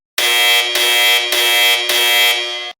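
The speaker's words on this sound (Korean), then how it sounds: "그리고 화재 비상벨이 울렸습니다." A loud electronic fire alarm sounds in steady repeated pulses with brief dips, harsh and piercing, then stops abruptly.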